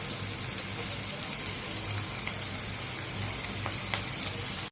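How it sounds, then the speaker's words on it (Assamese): Onions fry in oil over a medium flame for a brinjal egg dum. The steady close crackle and hiss has tiny pops scattered throughout, continuous and even. "এটা মিডিয়াম ফ্লেমতে ইয়াক ভাজি থাকিব লাগে"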